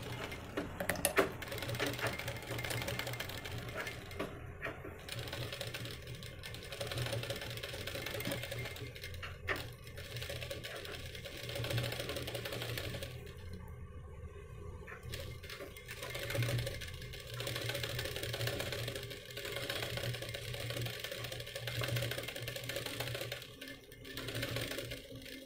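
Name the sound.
sewing machine stitching the edge of an umbrella dress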